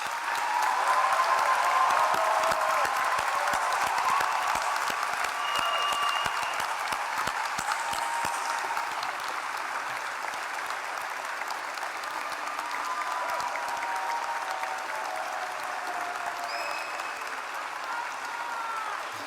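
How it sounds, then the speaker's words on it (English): Sustained applause for the graduating medical class at a Kentucky College of Osteopathic Medicine ceremony, a large hall crowd clapping steadily and warmly throughout, loudest at first and tapering slightly toward the end. "Let's give these ladies and gentlemen one last round of applause"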